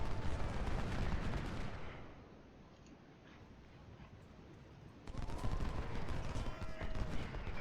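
Musket volleys roar from massed Civil War infantry lines in Ultimate General: Civil War, a dense continuous crackle of gunfire that fades briefly mid-clip, then surges back loud and sustained.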